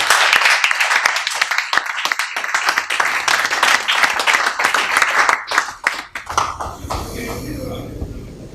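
An audience claps loudly and continuously, applause rising into dense rapid clapping before tapering off as it fades out near the end.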